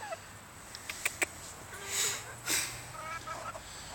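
Bantam chickens clucking in short, scattered calls over a steady background hiss, with a couple of louder bursts midway; no talking.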